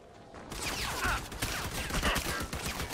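Video game gunfire in a modern combat scene, a dense rapid fusillade of cracking shots that bursts in abruptly and keeps rattling steadily, loud and close, with no talking.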